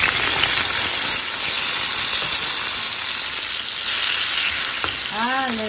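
Tomato added to a pan of frying potatoes and onion sizzles loudly and steadily close up, a dense hiss running throughout, with a brief metallic scrape near the end.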